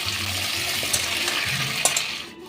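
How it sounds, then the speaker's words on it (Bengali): Oil sizzles steadily in a pan as carrots fry, with a few light clinks and stirs as the pieces shift in the hot fat. "গাজরটা খুব সুন্দর ভাজা হয়ে গেছে"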